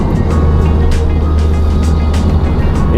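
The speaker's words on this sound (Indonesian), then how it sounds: "Ini jegas dikit aja udah lari ini mobil" A Honda Jazz fitted with a Vaitrix throttle controller accelerates under throttle, a loud continuous engine drone from inside the car with faint clicking ticks.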